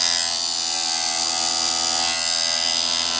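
A Harbor Freight chain saw sharpener runs with a steady, high-pitched motor whine and grinding hum, continuous and close, with no talking.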